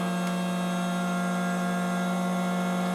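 A Fresko automatic hands-free vacuum sealer pumps air from a bag, giving a steady, close electric motor hum that holds evenly for about three seconds with no voices.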